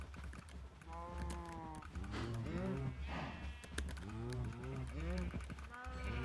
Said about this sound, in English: I love these new cow noises.